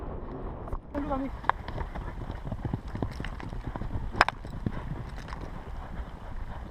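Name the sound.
polo horses galloping hooves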